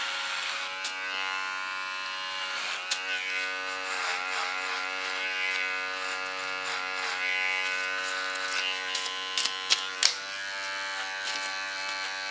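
Electric hair clipper buzzing steadily while cutting a woman's short hair around the neckline, a close, continuous tonal drone with occasional brief clicks and shifts in pitch as the blades move.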